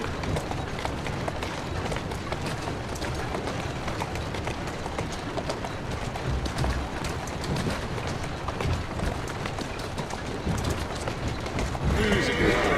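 Horse hooves clip-clopping at a run pulling a carriage in the video game Assassin's Creed Syndicate, a continuous loud rhythmic patter with occasional neighing and a voice talking over it.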